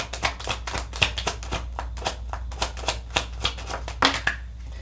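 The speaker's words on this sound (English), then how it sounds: "Let's shuffle. Cards are feeling kind of slippery." Tarot cards shuffled by hand in quick, close, crisp riffling bursts that repeat steadily, with no voices.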